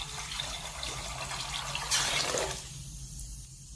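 Water pours into a pan of simmering amti, a close liquid gush and splashing that swells to a brief peak, then fades to a quieter bubbling.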